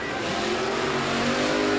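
Monster trucks at a 1993 USHRA event in Jacksonville rev hard off the start line, a loud, steady engine roar that rises in pitch as they launch, close and continuous.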